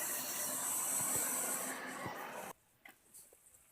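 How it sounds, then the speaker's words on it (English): A household vacuum cleaner runs loudly and steadily indoors as a broad hiss, then cuts off abruptly, leaving a few faint knocks in a quiet room. "My husband was vacuuming the house"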